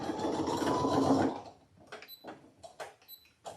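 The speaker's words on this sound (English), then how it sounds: "I'm going to straight stitch right across it." A sewing machine straight-stitches across a small fabric pouch in one continuous run of just over a second, then stops, and light handling clicks and rustles follow.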